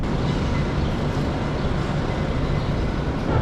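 Washington DC Metro train passing near Capital One Arena, a steady, loud, broadband rumble and roar that fills the whole stretch without a break.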